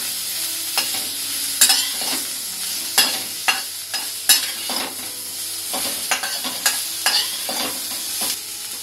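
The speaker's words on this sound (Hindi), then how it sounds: "और अब इसको हम ऐसे चला लेंगे।" Bitter gourd with salt and turmeric fried and stirred in a pan: a continuous sizzle broken by repeated sharp scraping strokes of a spoon, close and fairly loud, with no speech.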